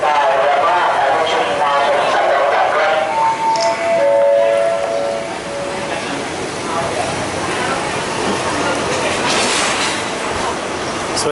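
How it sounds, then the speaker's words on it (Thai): A train pulls out of Thonburi railway station in Thailand, its steady rumble and clattering wheels loud and close throughout, with voices talking over the carriage noise. "ตอนนี้ก็กำลังจะออกจากสถานีรถไฟทนบุรีนะครับ"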